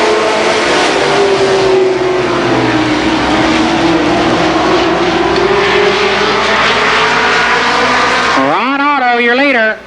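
Race cars at Columbus Motor Speedway in 1990 scream past in a loud sustained engine roar with rising and falling pitch, ending as a voice breaks in over a fading car.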